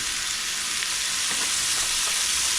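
Dinakdakan frying in a little oil in a pan, a loud, steady, close hissing sizzle that fills the whole stretch without any talk.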